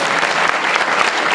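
An audience claps loudly at a kirtan gathering during a week-long harinam saptah in a village, a dense burst of many hands applauding continuously.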